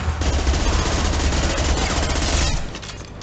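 Sustained automatic gunfire in the Mass Effect 2 video game, a dense, loud stream of rapid shots that runs steadily for most of the moment before easing slightly near the end.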